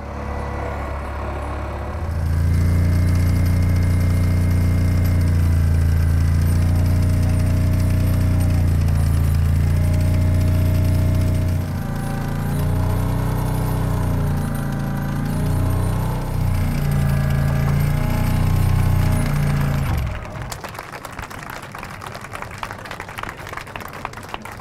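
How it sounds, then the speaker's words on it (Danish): A large excavator drives a sheet pile wall into the ground at a bridge construction site, producing a loud, steady machine drone with rhythmic pounding for about twenty seconds before it drops to a quieter, clattering background. "Transportministeren styrede den store gravmaskine, der skulle banke en sponsvæg ned"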